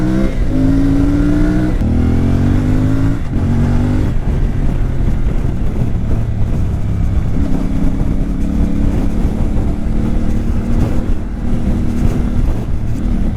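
A CFMOTO MT450 motorcycle engine revs and drones steadily while riding off road, shifting pitch as it accelerates and changes gear, loud and close throughout.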